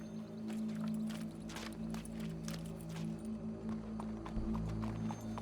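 Horse hooves clip-clopping in the Red Dead Redemption 2 video game, a run of fairly quick, even thuds over a steady low hum of background game sound.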